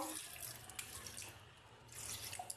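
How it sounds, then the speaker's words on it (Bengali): Water runs steadily into a pan while making egg Maggi noodles in a home kitchen, a soft, close, continuous splashing and trickling stream with no speech. "জল নিয়ে আমি চলে এসেছি শুধু এতে জল দেবো পরিমাণ মতো"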